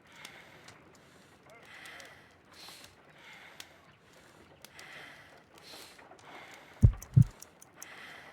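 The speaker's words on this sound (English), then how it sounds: "I need to concentrate and count the heartbeats." A heartbeat in the Sherlock Holmes Crimes & Punishments video game, heard as two deep, heavy thumps in quick succession near the end, after a stretch of quiet, murmuring background ambience.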